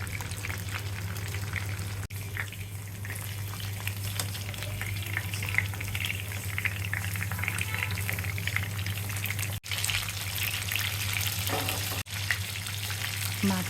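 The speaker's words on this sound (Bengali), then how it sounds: "মাছ ভাজা অলমোস্ট ডান।" Rohu fish pieces fry in a pan for a curry, a steady close crackling sizzle that runs unbroken throughout, with a few brief sharper spatters and no talking.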